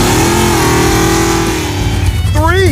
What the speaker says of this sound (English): Next to the muscle truck, the Duster is probably the meanest sounding car we have here today.